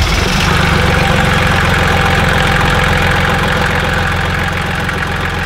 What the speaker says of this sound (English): Now we're gonna test the port engine.